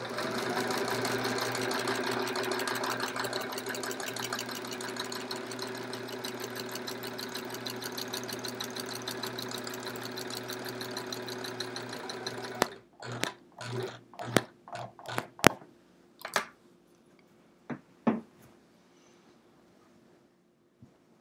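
A walking-foot sewing machine quilts through a thick layered chevron quilt, running in a steady continuous whir close by for about twelve seconds, then breaking into short separate stitch bursts and clicks as it pushes over bulky fabric.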